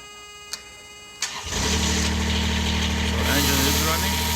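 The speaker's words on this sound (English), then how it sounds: "switch on the engine" A Niftylift TD120T lift's engine cranks after a couple of sharp clicks, catches and settles into a steady, loud idle that runs on close by.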